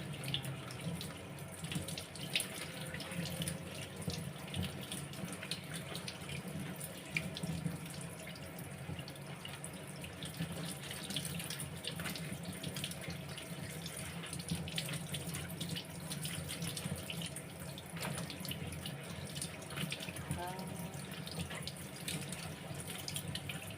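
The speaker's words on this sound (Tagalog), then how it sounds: "Hugasan po natin mabuti ang dahon." Fresh banaba leaves being washed under a running kitchen tap, a steady close hiss of flowing water with splashing and dripping as the leaves are rinsed, continuous and fairly quiet, no voices.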